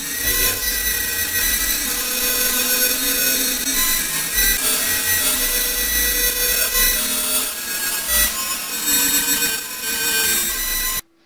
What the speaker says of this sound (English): Let me also set a vibrato